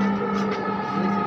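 A Dhaka metro train running between stations, a steady close tonal hum and whine with a sustained, brief rumble inside the carriage and no talk.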